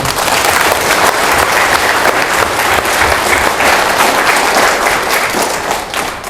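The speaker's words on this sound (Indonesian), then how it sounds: "mari kita tepuk tangan bersama-sama ya, aplaus" Dense, steady applause from a large audience, continuous and loud throughout with no pauses.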